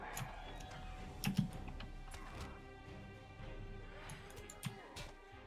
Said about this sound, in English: It's the wonderful magic of mechanical keyboard.